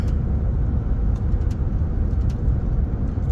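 Interior road noise of a car cruising on a mountain highway: a steady, dense low rumble of tires and engine, constant and fairly loud, with a few faint clicks and no talking.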